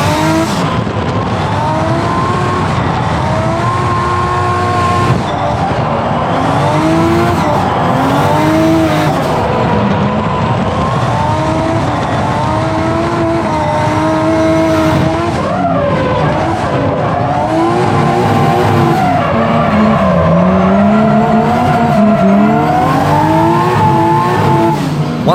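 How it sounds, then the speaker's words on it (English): A 350hp Nissan R32 Skyline drifts through track corners, its engine revving hard and shifting pitch while tires squeal in long, wavering screeches, loud and continuous throughout. "now I started to focus on throwing the car into the first corner using no handbrake"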